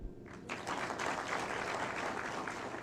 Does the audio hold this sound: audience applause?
yes